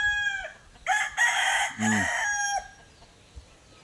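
A rooster crows loudly nearby on a farm, its call rising and falling, with chickens clucking around it and a brief low voice in the middle.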